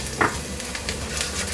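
Chopped green chilies and ginger stir-frying in a pan for veg Hakka noodles, a brief dense sizzle with a quick scrape of the spatula at the start and soft stirring after.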